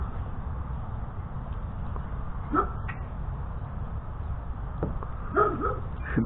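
A dog gives a few faint, brief yips and whimpers at mid-distance over a steady low rumble of background noise.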